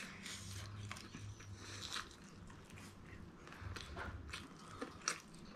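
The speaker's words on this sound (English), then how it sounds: "this is my real big bite" Close crunching bites and chewing into KFC fried chicken, a run of crisp crackling crunches and soft mouth sounds repeating irregularly, recorded near the mic with no talk.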